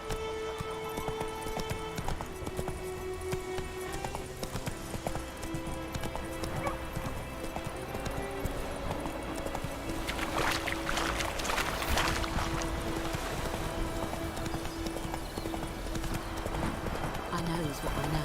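A horse gallops in The Witcher 3 video game, with steady clip-clop hoofbeats running throughout under game music and ambience, with voices speaking at times.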